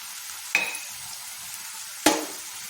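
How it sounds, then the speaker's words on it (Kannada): Bamboo shoots frying in a pan with turmeric and green chilli powder, a low steady sizzle broken by two sharp stirring scrapes, close and fairly quiet. "ಇದನ್ನು ಕೊಡೋದ್ರ ಜೊತೆ ಫ್ರೈ ಮಾಡ್ಕೊಳ್ಳೋಣ ಇದು ಸ್ವಲ್ಪ ಫ್ರೈ ಆಗಲಿ"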